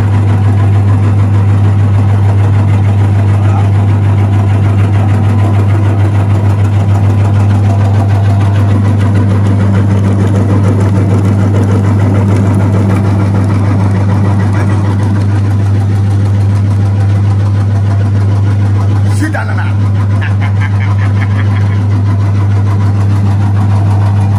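A juice extraction machine's motor runs in a continuous loud low hum with a steady mechanical drone, unchanging throughout and close by, with no voices.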